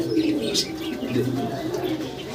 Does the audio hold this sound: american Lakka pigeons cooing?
yes